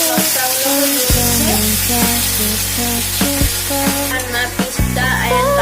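Chili frying in oil in a pan, a steady close hiss with faint crackle running under loud tonal background music throughout.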